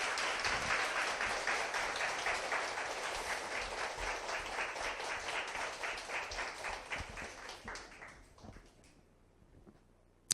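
An audience breaks into warm, sustained applause at a history lecture, dense clapping holding strong for several seconds before thinning out and fading to quiet near the end.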